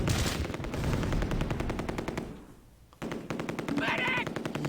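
An MG42 machine gun in the Close Combat war game fires long rapid bursts, loud and close, with a brief pause before the firing resumes and a voice briefly heard over it.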